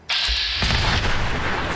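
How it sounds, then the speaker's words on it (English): Heavy gunfire in the video game Fallout 4, a loud, dense roar of blasts that sets in abruptly and keeps going with booming low rumble for the rest of the moment. "We got some gunfire."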